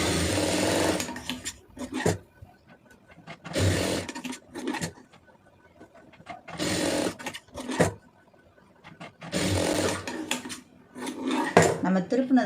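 An electric sewing machine stitches a plain blouse in repeated short bursts of rapid mechanical whirring, separated by brief pauses and faint handling clatter, close by.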